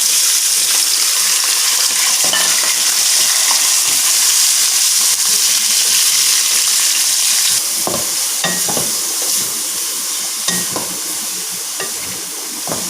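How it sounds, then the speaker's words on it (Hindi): Pieces of boneless chicken fry in a few spoonfuls of oil in a kadhai, giving a loud, continuous sizzle broken by occasional scrapes and clinks of stirring. "चिकन फ्राई हो रहा है"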